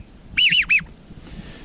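Three quick, high whistled notes blown on a hand-held duck call, mimicking a wigeon drake's whistle call, sharp and close, followed by near silence.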